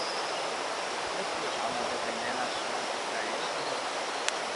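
Along a trail to a waterfall, a stream rushes steadily beside the path, a constant broad wash of water with no break, fairly close.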